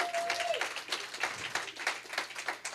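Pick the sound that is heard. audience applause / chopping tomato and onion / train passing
audience applause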